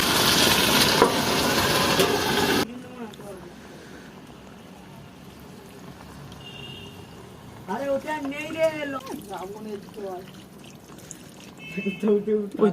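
Water poured into a frying pan of mutton curry, a loud rushing splash and sizzle for about three seconds, then quieter simmering while someone talks.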